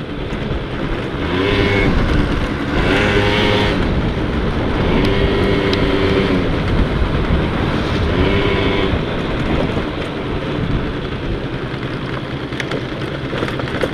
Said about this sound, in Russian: Двигатель пошел подогреваться.